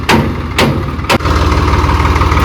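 A tractor engine in Rajasthan runs loudly and steadily nearby, broken early by three sharp knocks before settling into a continuous rumble.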